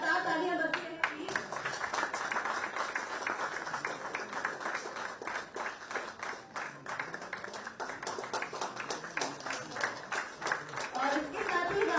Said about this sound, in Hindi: लगातार तालियां बजती रहे प्लीज।